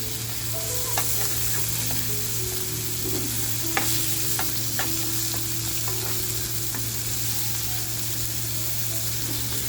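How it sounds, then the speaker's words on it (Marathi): Fish frying in an oiled pan for a Marathi pala fish thali, a steady close sizzle with occasional sharp crackles and pops, no talk. "आपली बघा मच्छी अशी छान फ्राय झाली आहे"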